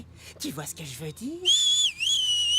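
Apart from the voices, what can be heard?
person whistling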